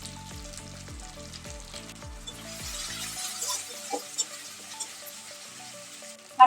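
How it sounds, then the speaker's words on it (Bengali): Lote fish curry with green chillies frying in a pan, a steady close sizzle with occasional stirring clicks and scrapes, no talk. "চারটে কাঁচা লঙ্কা দিয়ে আবার ভালো করে ভেজে দেব।"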